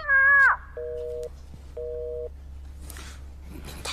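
Two evenly spaced beeps of a telephone busy tone follow the end of a call, each about half a second long, clear and fairly loud after a brief higher-pitched sound, then only quiet room noise.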